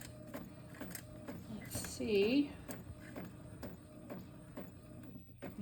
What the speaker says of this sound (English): Did not feed straight, but it does seem to be printing.